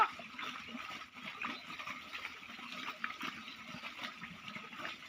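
Water is poured glass by glass into a water can while a spray for a silk-farm mulberry plantation is mixed, a soft, continuous gurgling pour close by with no voices.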